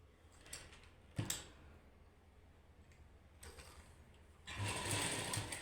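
A sewing machine stitching a seam on a suit in quiet, brief bursts: a short clatter of needle strokes early on, then a longer, louder run of stitching near the end, with no talking.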